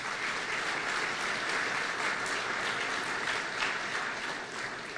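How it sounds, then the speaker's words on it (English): A crowd of auto workers at an event about the General Motors plants in Flint applauds, a dense, steady ovation of many hands at moderate distance, with no talking. "Give yourself a round of applause."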